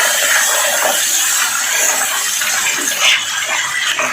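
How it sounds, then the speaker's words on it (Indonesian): Crab in spicy Padang sauce with oyster sauce bubbles and spatters in a pan with a dense, steady hiss, broken by faint scraping as it is stirred. "Jangan lupa tetap diaduk ini, karena ini harus diaduk juga."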